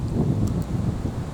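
Wind blows across the microphone outdoors in the Australian bush, a short, steady low rumble of buffeting with no one speaking.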